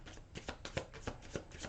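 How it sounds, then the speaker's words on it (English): A deck of glossy, slippery tarot cards is shuffled by hand close up. Quick riffles and slaps repeat about every third of a second, with no one speaking. "If any of these cards fall out while I'm shuffling them"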